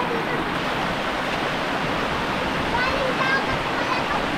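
Loud, steady rush of river water flowing in a rural province, a continuous broadband roar close to the microphone, with faint voices barely audible beneath it.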